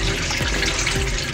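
Coconut milk pours into a cooking pan in a short, continuous liquid splash, close and fairly loud, with no pauses.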